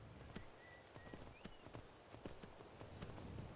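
Horse hooves clip-clopping at a steady walking pace in Skyrim, a quiet series of sharp knocks with a few faint tonal sounds over soft background ambience.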